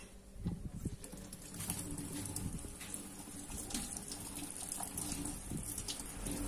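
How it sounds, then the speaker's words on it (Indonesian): Fresh ginger root is rinsed under a running kitchen tap as a herbal remedy is prepared, giving a steady, soft stream of splashing water throughout with faint bird calls in the background. "Nah, jahenya kita cuci dulu ya teman-teman"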